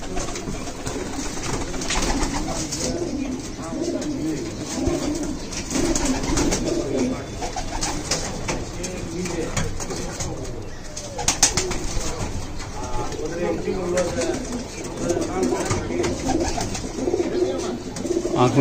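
Pigeons, including flying pigeons, coo repeatedly in low, throaty murmurs amid a busy background in Habiganj, Bangladesh, with occasional wing flutters and faint human voices now and then.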